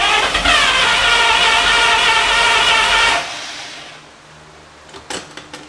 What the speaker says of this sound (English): So we expect this to just fire up and run